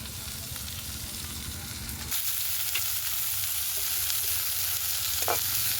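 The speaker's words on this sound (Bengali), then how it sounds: "পেঁয়াজগুলো একটু নেড়ে নেড়ে ভালো করে ভেজে নেব।" Onions, garlic and tomatoes fry in a pan for a Bengali tomato-fish mash, with a steady close-up sizzle that grows brighter and louder partway through as they are stirred, and no talk over it.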